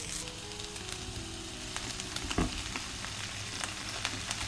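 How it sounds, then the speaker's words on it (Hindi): Paneer sautéing in ghee over high heat, a steady, close crackling sizzle with small pops throughout and no voices. "पनीर को भी हम हाई हीट में फॉर 1 मिनट भूनेंगे।"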